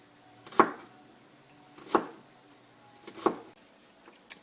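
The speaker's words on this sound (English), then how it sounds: "I'm dicing the onion." Knife chopping an onion on a cutting board, three distinct separate chops at an even, unhurried rhythm, close and clear with quiet room tone between strikes and no talk.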